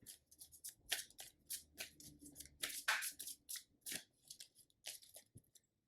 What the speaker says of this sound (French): On brasse les cartes et on coupe.